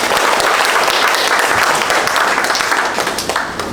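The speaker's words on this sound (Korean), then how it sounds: "힘찬 박수 부탁드립니다." Audience applause at a construction workers' union team leader retreat, dense and loud clapping that holds steady and then begins to thin and fade toward the end.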